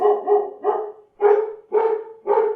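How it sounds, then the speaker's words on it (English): A dog's barking plays back through a Bluetooth speaker: six loud, close barks in quick succession, with a short pause in the middle and no other sound. "we will have a Bluetooth speaker that will simulate the barking of this dog"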